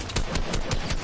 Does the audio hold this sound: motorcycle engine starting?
no